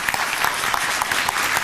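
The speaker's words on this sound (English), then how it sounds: "Should we give them a round of applause" Sustained applause from an audience at a presentation in Amsterdam, many hands clapping in a dense, even wash that stays loud throughout without talk over it.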